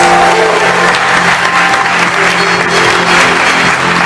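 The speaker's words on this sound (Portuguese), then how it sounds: "Aplauda porque você é livre, as suas mãos estão livres." A church congregation applauds loudly and continuously, dense clapping filling the room with a thick, sustained wash of sound that never lets up.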